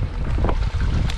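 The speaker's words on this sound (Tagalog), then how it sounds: "Mahangin na oh." Gusty wind buffets the microphone outdoors during an onion harvest, a loud low rumble with brief swells and dips.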